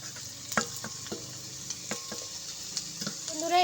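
Carrot sweets frying in hot oil in a village kitchen give a steady, close sizzling hiss, broken by several sharp clinks and scrapes of a utensil stirring in the pan, with no talking.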